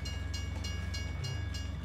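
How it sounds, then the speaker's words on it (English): A train driven in a video game rolls along with a steady rhythmic clatter of wheels over rail joints and a low engine hum, moderately loud and with no voices. "I'm driving the train."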